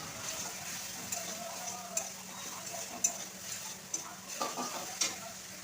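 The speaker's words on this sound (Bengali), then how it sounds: "লবণ হলুদ লঙ্কার গুঁড়ো দিয়ে ভালো করে মশলাটা কষিয়ে নিচ্ছি" Spice paste with salt, turmeric and chili powder frying in a pan, a faint steady sizzle broken by soft scraping stirs and light clicks of the spoon.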